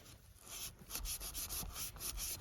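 A knife blade saws through thick 25 mm rope in a quick series of faint, rhythmic rasping strokes, close and quiet with no voices.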